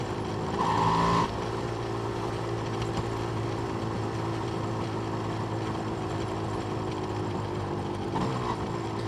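A Yamaha DT two-stroke motorcycle engine running steadily while riding at easy speed, a continuous droning hum with low harmonic tones that holds level throughout, with a brief louder rise near the start and end.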